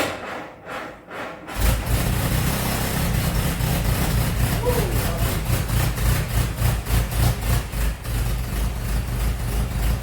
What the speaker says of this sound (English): That 6-volt battery don't seem to have enough power to push it over very well.